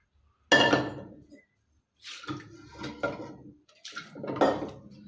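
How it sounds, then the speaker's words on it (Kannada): Cooked greens move from a pressure cooker into a pot, heard as a few separate metallic clanks and scraping clatters of utensil against vessel, close, with short silent gaps between. "ನಾನು ಕುಕ್ಕರಿಂದ ಪಾತ್ರೆಗೆ ಟ್ರಾನ್ಸ್ಫರ್ ಮಾಡ್ಕೊತಾ ಇದ್ದೀನಿ."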